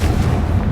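A Confringo explosive spell cast in Hogwarts Legacy lands as a short, loud, booming blast with a dense low rumble throughout.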